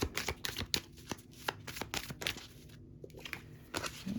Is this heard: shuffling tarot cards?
yes